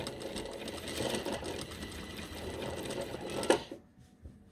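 Sewing machine stitching the lining of a perfecto-style jacket along the piping: a fast, steady mechanical whirring hum of needle strokes for several seconds, then stopping abruptly, followed by near silence and a small click.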